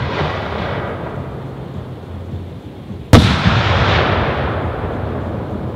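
A six-inch Dominator blue color-tip firework shell bursts with a single sharp, loud boom midway, then rumbles and crackles as it decays over the open-air background of a 1.3 shell display.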